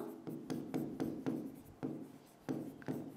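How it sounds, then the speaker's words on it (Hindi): Chalk or marker writing on a board during a classroom Sanskrit lesson, a run of close, distinct scratchy strokes in an uneven rhythm, each a short rasp with brief pauses between, with no talking. "यहां लिखेंगे हम"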